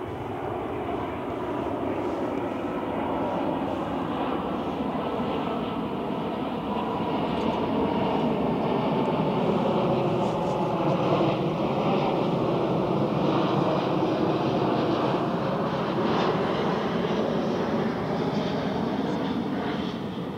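Airbus Beluga cargo aircraft passing overhead during a shipspotting session, a loud, steady broadband roar that swells slowly and holds for about twenty seconds with no talk.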